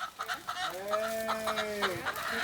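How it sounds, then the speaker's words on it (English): A chicken on a film set clucks in a few short calls, then gives a drawn-out tonal squawk, close and fairly clear over light background noise. "Catch the chicken."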